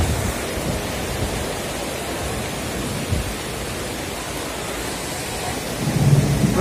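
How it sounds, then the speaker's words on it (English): Heavy rainstorm pouring down in Medellín, Colombia, a steady dense roar of rain with low rumbling, swelling slightly louder near the end, no voices. "It's just raining crazily."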